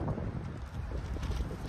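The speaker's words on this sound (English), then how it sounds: "It is super windy, so that's a good thing." Strong wind buffets the microphone outdoors while kites are launched, a constant low rumbling roar with gusty swells throughout and nothing else distinct.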